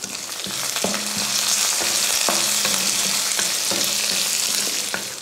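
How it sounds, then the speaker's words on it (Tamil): Chana dal, urad dal, curry leaves and about ten garlic cloves fry in hot oil with a steady crackling sizzle, while a spoon scrapes the pan in regular strokes roughly every half second. "எண்ணெய் ஊற்றினதுக்கப்புறம் 2 ஸ்பூன் அளவுக்கு கடலைப்பருப்பு, அதே அளவு உளுந்து, கொஞ்சம் கருவேப்பிலை, ஒரு பூண்டு பல் வந்து ஒரு 10 போட்டுக்கோங்க"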